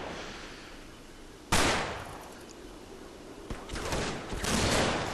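A squad fires back at the enemy in the Combat Mission Market Garden campaign: a loud sharp crack of gunfire, then a few more distant shots and a building rattle of fire, with no talking.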